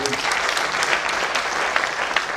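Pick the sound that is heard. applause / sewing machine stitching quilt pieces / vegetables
applause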